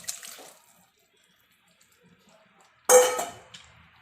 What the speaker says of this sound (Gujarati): આપણે જે બાફેલા ચણા છે બાફેલા ચણા અને બટેકા એ આપણે પાણી જે એડ કરેલું હતું એ પાણી સાથે જ આપણે એમાં શાકમાં એડ કરી દઈશું